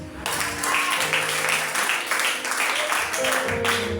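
A church congregation applauds during a Sunday service, a burst of clapping starting abruptly and holding steady and fairly loud, with some voices mixed in.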